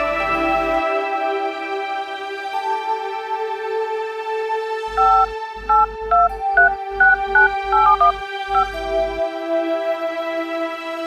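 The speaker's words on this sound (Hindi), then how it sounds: "फोन लगाई देखी कहाँ बाटे" A series of telephone keypad tones beep in quick succession as a number is dialed, over a steady electronic musical tone.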